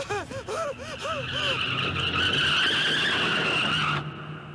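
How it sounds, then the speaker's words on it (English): A car skids with a long, loud tire squeal in a film scene where it runs a man over, preceded by a series of rising electronic warbles and ending abruptly. "and he gets run over by a car"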